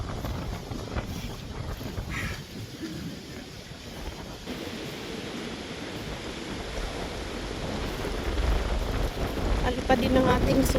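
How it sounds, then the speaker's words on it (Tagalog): Heavy wind in the UK buffets the microphone in a continuous rushing roar that builds stronger toward the end; no clear speech. "Sobrang lakas ng hangin."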